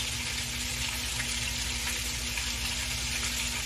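Hush puppies frying in a skillet filled too high with grease, a steady close hiss and crackle with bright spattering and no pauses.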